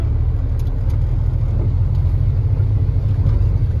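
A 4x4 truck engine revs hard in a French forest with the wheels spinning, a loud continuous low rumble and drone that holds steady throughout, heard close up.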